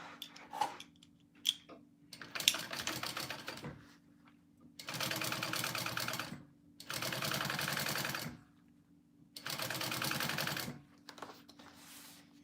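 A sewing machine stitches a small mini backpack in three sustained runs of steady, rapid needle chatter, each lasting about two seconds. Brief clicks and handling noises fall between the runs, with no talking.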